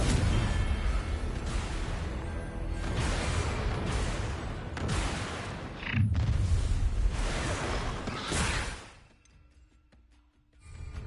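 Confringo explosion spell blasts in the video game Hogwarts Legacy, a series of loud, rumbling bursts and whooshing blasts in quick succession during a fight, ending in a sharp impact before falling quiet.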